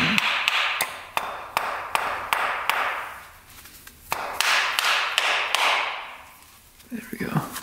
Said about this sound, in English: We have to hammer on that.